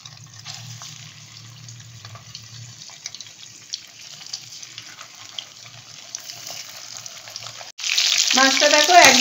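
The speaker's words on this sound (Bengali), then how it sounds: "এবার আমি মাছগুলো ভেজে নেব।" Hot oil in a wok hisses faintly at first, then fish goes in and a loud, close, crackling sizzle bursts up and keeps going to the end.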